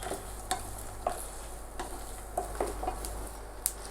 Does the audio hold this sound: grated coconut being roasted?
yes